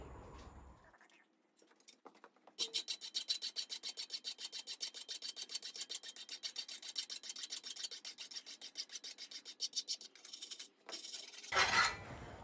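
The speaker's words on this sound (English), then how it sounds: "We're going to file what's going to be the inside of the spring" Hand file rasping across the inside of a hand-forged frizzen spring, a long run of fast, even, close strokes after a few tentative passes, ending with a clank of metal.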